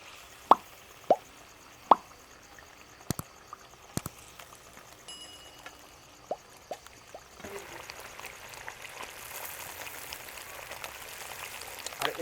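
Eggplant pieces dropped one by one into a pan of frying spice paste, a handful of sharp plops early on, then a soft rising sizzle and bubbling that grows steadier toward the end.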